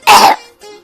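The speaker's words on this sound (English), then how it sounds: "cough" A single sharp cough, loud and close, followed by a fainter trailing rasp; no speech accompanies it.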